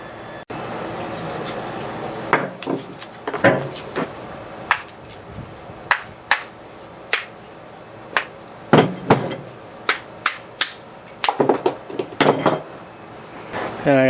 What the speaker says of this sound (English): I'm going to have to get a chisel and break it off because we don't need this piece.